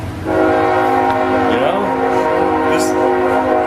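A train horn blares loudly and steadily in a sustained chord over the rumble of the train, continuing for several seconds.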